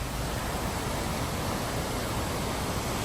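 Steady broadband rush of water flowing in Monogram Creek, a continuous close wash with no talk over it, heard along a road trip near highway 20.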